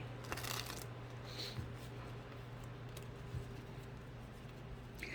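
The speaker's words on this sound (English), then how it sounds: "Let me give it a good shuffle." Soft, steady riffling of tarot cards being shuffled, faint and close, over a low constant hum with a few light taps.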